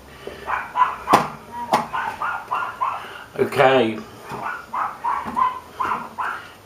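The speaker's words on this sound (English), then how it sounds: "We breed papillons, and they're due to be fed, and they're complaining outside rather loudly." Papillon dogs outside bark and whine in short repeated bursts, loud and insistent as they wait to be fed, with a person speaking briefly over them.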